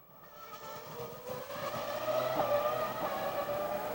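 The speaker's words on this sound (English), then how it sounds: "we'll have both Ferraris in action at the same time here as Barrichello goes on the clock" Ferrari Formula One cars in practice at the 2001 Monaco Grand Prix, a continuous loud high-revving engine whine that builds and holds steady over four seconds with no talk.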